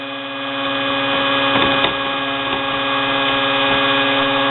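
A mini bench grinder motor runs at normal speed, giving a steady, close, droning hum with a constant pitch and no talk over it.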